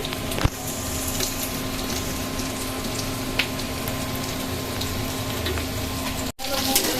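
Vegetable momo filling sizzles and fries in a pan with vinegar, a close, steady crackling hiss like light rain that runs throughout, with a couple of faint knocks and a brief cut near the end.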